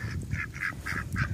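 A duck quacks five times in quick, even succession, close and clear, with low background noise underneath.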